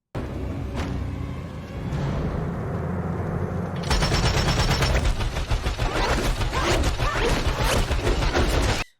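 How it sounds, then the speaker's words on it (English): Rapid sustained gunfire from a Gatling gun in a BloodRayne film scene, a loud dense burst of shots that starts abruptly after a rumbling lead-in and runs continuously to the end. "a townsperson guns him down with a Gatling gun"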